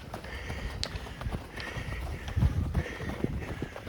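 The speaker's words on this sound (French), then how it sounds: "On entend juste le souffle des coureurs et le craquement de la neige sous les pieds." Runners on a snowy forest trail crunch rhythmically underfoot, their footfalls soft and fairly close, with faint breathing in an otherwise quiet wooded setting.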